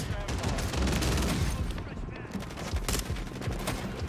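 Rapid ISO 9mm submachine gun fire in Call of Duty MW3: dense automatic bursts, loud and close, with brief pauses between strings of shots.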